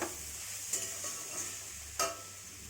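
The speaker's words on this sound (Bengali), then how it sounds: "কষে মানে ভাজা চালটাকে ভালো করে ভেজে নিতে হবে।" Rice for pulao fries and is stirred in a pan, a soft continuous sizzle broken by two sharp scrapes of the spoon against the metal, close and with no talk.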